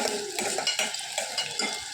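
Onions sautéing in a pan in a home kitchen, heard as a steady soft sizzle with repeated scraping and clinking of a utensil against the metal, close and fairly loud throughout.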